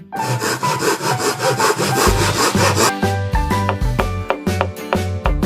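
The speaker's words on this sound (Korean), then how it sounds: "나무를 톱으로 자르고" A hand saw cuts through wood in a children's woodworking play setting, with rapid rasping back-and-forth strokes followed by a rhythmic, toy-like melodic pattern, loud and close with no voices.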